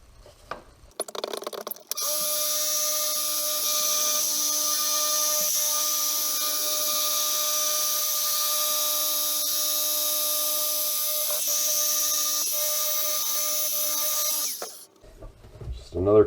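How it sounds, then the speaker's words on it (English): A power buffer polishes a Subaru Forester headlight lens, giving a steady, loud high-pitched whine that runs for about thirteen seconds after a few short clicks and bursts, then stops. "Just go ahead and give it one more quick buffing."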